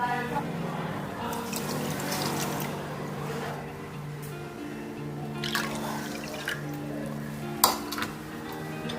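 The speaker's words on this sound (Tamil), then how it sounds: "2 கப்பு சர்க்கரைக்கு அதே சேம் அளவு வந்து 2 கப்பு தண்ணி ஆட் பண்ணிக்கலாம்" Two cups of water pour steadily into a pot of sugar for gulab jamun syrup, a continuous splashing trickle with faint clinks and a low hum underneath.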